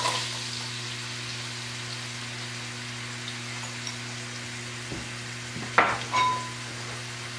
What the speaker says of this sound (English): Now I'm going to add my onion, my white and green onion to the pot.